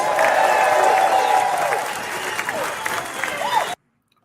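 A crowd at a reparations movement event applauds and cheers, a dense wash of clapping and whoops that thins out toward the end and cuts off abruptly.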